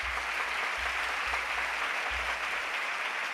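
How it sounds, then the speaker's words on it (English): Audience applause for the ISRO team at a World Space Week 2022 valedictory ceremony: a steady wash of clapping fills the whole stretch at moderate level, with no voices over it. "I would also request to give a huge round of applause for all the members of the ISRO team"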